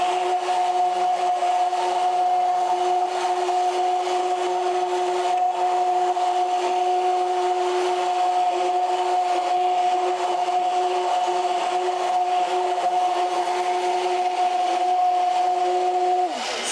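Hyaluronic acid facial serum being mixed vigorously, a steady unbroken whirring hum with a faint rubbing texture that holds evenly throughout and cuts off at the end.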